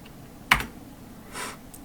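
Two or three separate keystroke clicks on a computer keyboard, a sharp tap followed by softer ones, quiet and close, with a faint room background and no voices.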